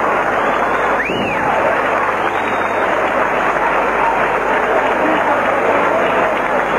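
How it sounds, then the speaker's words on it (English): Crowd of fans applauding at an 1980s WWF wrestling match, a continuous roar of clapping and cheering that fills the whole stretch, with a brief whistle-like rising tone near the start. "Applause by the fans."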